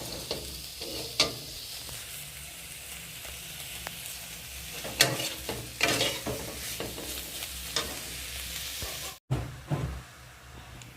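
Prawns frying in a pan at a village festival cook-up, sizzling steadily for about eleven seconds while a spoon scrapes and stirs in repeated bursts, with a brief clatter near the end.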